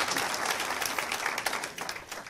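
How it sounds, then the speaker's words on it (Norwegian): Dense, steady applause from an audience at a jazz event, a loud continuous patter of many hands clapping that keeps going throughout. "Det fortjener en applaus."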